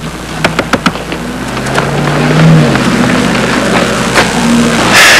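A car driving away, a steady engine rumble rising and holding after a few sharp knocks at the start, fairly loud with no speech.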